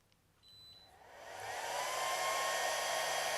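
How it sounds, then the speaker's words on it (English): Atezr 24-watt laser engraver running a high-speed test: a fan-like whir spins up and swells into a steady, loud rushing hum, with a faint tonal whine above it. "laser machine is making some noise"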